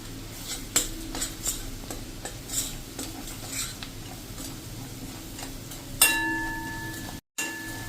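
Crushed garlic and green chili masala being stirred into besan in oil in a pan over a low flame, soft scraping with light spoon taps against the metal, fairly quiet and close.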